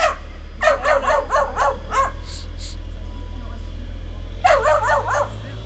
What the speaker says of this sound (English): Don't touch the dog.